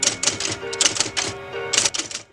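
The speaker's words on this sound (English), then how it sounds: "Is that the typewriter from the previous episode with Gregory?" A 1960 typewriter in a Twilight Zone episode types on its own in quick clattering bursts of keystrokes with brief pauses between them, close and clear.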